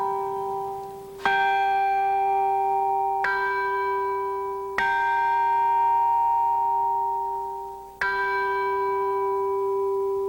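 A newly designed church bell with a modified minor third rings out in four clear, sustained strikes, each sharp attack followed by a long, bright, harmonious decay, close and fairly loud with no other sounds.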